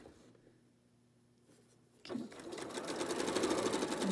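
Sewing machine stitching across the edge of a quilt block with a chicken and rock garden flower design; after a quiet start, the motor kicks in suddenly and runs in a steady, close, rising whir to the end.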